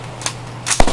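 An M16 rifle at a Las Vegas gun store range fires a short burst, with a sharp crack near the start and a few rapid louder reports at the end, close and dry.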